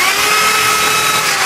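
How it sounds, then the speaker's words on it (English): Steady, loud whine of a reversible power drill spinning a worn-out wire brush attachment, used in restoring a 1969 XW Ford Falcon, running continuously without a break and with no talk over it. "These wire brush attachments for the drill."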